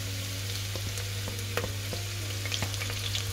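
Chopped garlic and green chilies sizzle in a hot pan for a mutton curry, a constant moderate frying hiss with occasional light pops and stirring taps over a low steady hum.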